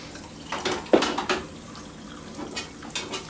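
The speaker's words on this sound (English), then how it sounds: "have Ron Smith pour me a little more coffee" Coffee is poured into a cup at a kitchen table, a short splashing trickle with a few cup clinks, close and moderately loud, with faint room noise around it.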